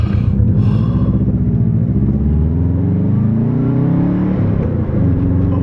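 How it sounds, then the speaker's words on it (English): A loud, steady engine rumble with rising tones sweeping upward as a car's turbo spools while accelerating, with a full Invidia exhaust and Cobb Stage 2 tune, close and continuous. "I can hear that turbo spool up"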